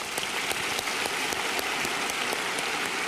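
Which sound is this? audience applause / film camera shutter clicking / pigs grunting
audience applause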